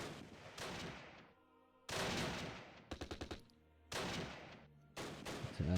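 Bursts of gunfire from the Close Combat war game at the Arnhem rail bridge: loud, dense volleys separated by short quiet gaps, with one rapid stutter of four or five sharp cracks in the middle.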